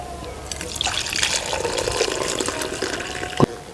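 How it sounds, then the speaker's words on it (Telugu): Spiced cooking water from simmered nalli (mutton shank) pieces for Hyderabadi biryani being poured into a lota vessel, a steady liquid stream trickling and filling close by for a few seconds, ending with a brief clunk. "ఇప్పుడు ఈ నీళ్ళు మొత్తం ఒక లోటాలో పోసుకుందామండి"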